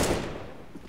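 Counter-Strike rifle spray on the Overpass map during a Nemiga vs Fragsters esports match: a rapid, dense burst of gunfire that starts loud and slowly trails off over under a second, with no talk.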